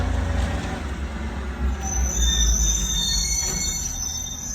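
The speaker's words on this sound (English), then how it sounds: "I'm gonna let this garbage man go by that first. Kind of loud." A garbage truck passes close by on a street, a loud rumbling low engine drone with high brake squeals and hissing building over about four seconds, with no talking.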